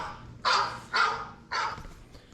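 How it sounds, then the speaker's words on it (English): A dog gives three sharp barks at an even pace, moderately close and fairly loud, with quiet gaps between them. "It's my dog barking"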